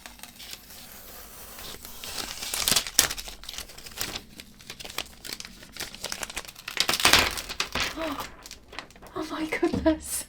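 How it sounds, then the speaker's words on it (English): Dried acrylic paint skin peeled by hand off a swipe-style acrylic pour painting, giving close crinkling, crackling and tearing bursts in two main surges with softer rustles between, without speech. "instead of brushing it off, I'll have to peel this section off now."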